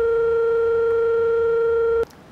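A telephone call tone plays while dialing a roadside assistance service: one steady, unbroken electronic tone holds loud and close for about two seconds, then cuts off abruptly into near silence.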